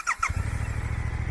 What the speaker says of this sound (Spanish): el botón de arranque es de un toque, no tienes que acompañar a la moto para que arranque